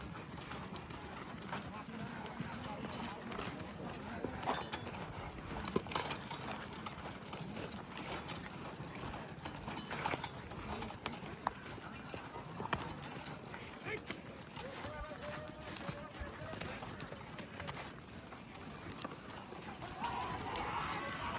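Bullocks' hooves clip-clop in a loose, busy rhythm at a bullock cart race ground in Padirwadi, under steady crowd noise with people talking throughout.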